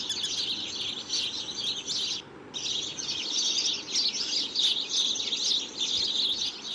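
Dense chorus of birds chirping at dusk at Taxila railway station, a continuous bright twittering from many birds with one brief lull, fairly loud and steady, with no voices.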